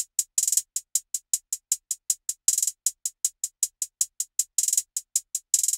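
A hi-hat pattern in a drum beat ticks in a steady, fast rhythm of bright, crisp hits broken up by occasional quick rolls, close and with no other sound.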